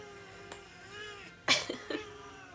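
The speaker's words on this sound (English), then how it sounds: "Can you hear my cat?" A cat indoors makes short vocal sounds, a brief sneeze-like snort and quick cough-like bursts, near and fairly faint, with no talking.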